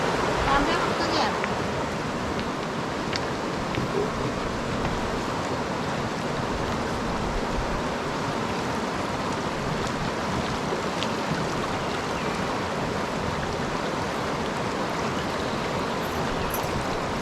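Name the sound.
river water flowing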